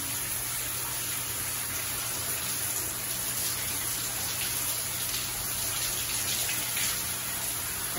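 Water running steadily from a shower fed by a home water treatment system, a constant close hiss with no talking, lasting throughout.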